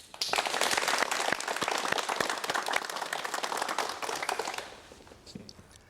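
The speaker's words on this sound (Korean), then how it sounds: "여러분 전예출 선생을 박수로 맞이해 주시면 대단히 고맙겠습니다." Studio audience of a 1989 Korean KBS television talk show breaks into loud, dense applause welcoming a makeup artist guest, sustained for about four seconds before fading away.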